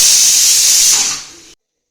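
A home kitchen pressure cooker, cooking beef for a roast, vents steam in a loud, steady hiss that tapers off and cuts out after about a second and a half.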